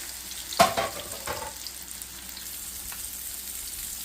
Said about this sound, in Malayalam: നമ്മുടെ മാരിനേറ്റ് ചെയ്ത ആഗോലി മീൻ നമ്മളിതിലേക്ക് ഗ്രില്ല് ചെയ്യാൻ വേണ്ടി വെച്ചിരിക്കുകയാണ്.